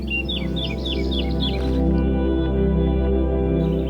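Birds chirping in a vineyard, a rapid series of bright, high tweets in the first couple of seconds over a constant low hum, then fainter scattered calls.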